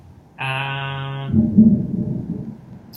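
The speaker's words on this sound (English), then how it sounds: "Big thunderstorm strike just there." Thunder strikes during a thunderstorm: a steady droning tone gives way to a loud, rolling rumble that swells and fades over a couple of seconds, with no talking.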